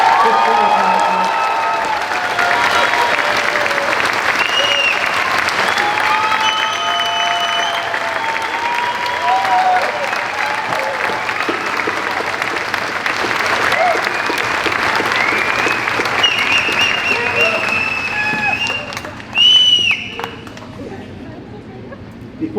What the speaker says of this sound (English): Can we have one nice round of applause for all of our fifth grade graduates?